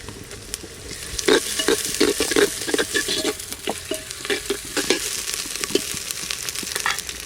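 Onion frying with ginger-garlic paste, cooked for duck curry in a Santali village kitchen: a steady close sizzle broken by repeated scraping stirs of the spatula, with no talk.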